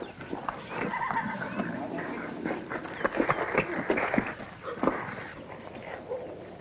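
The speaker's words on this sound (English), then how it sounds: "that's a thoroughbred if I ever saw one" A thoroughbred horse, heard as whinnies and snorting with some movement sounds at moderate distance, alongside speech.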